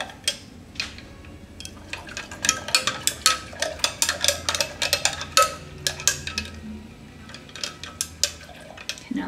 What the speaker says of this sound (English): And I'm just gonna stir this around.